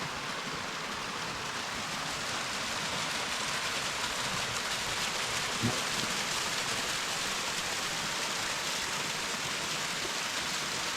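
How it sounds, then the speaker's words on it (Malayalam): A small hidden waterfall in the Ponmudi hills roars steadily and evenly, a dense broadband rush of falling water heard close up, continuous throughout with no voices. "ചെറിയൊരു വെള്ളച്ചാട്ടമാണ്"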